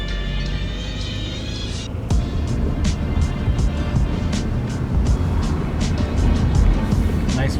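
An old car with 300,000 miles drives through Pittsburgh neighborhoods, its engine and road noise a steady low rumble throughout, with intermittent clicks and rattles close by.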